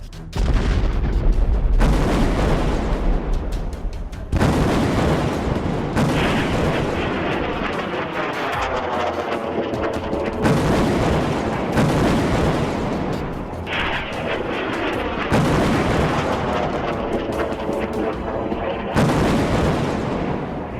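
Missile and rocket barrages fired from Gaza toward Israel, heard as a dense run of loud booming blasts and rumbling detonations, repeated in waves with brief lulls between them.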